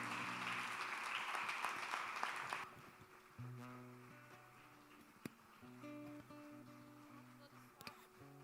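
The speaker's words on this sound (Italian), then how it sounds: "Facciamo un applauso al Signore." A church congregation in Verona applauds during a worship service, with a bright wash of many hands clapping for a few seconds. It then gives way to sustained keyboard or organ chords that carry on alone.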